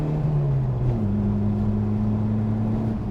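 Ford Fiesta XR2 engine revving while driving, a steady droning hum that climbs in pitch through a gear change and holds strong throughout, loud and close with no talking.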